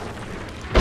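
A deep boom of ship cannon fire in the video game Sea of Thieves erupts at the very end, following a stretch of muffled rumbling background noise.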